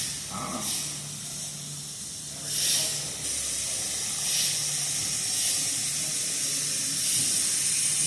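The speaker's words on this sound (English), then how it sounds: "One tire down, Nick's seating the bead." Compressed air hisses steadily while a car tire bead is seated on an '85 Charger, a continuous close rushing with slow swells and a faint low hum beneath, lasting several seconds without talk.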